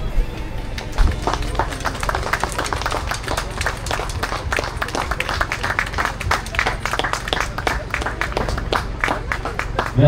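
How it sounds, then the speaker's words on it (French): Crowd applause for children at the start line of a trail race, a steady outdoor patter of many hands clapping with voices mixed in throughout. "on va applaudir aussi quelques enfants"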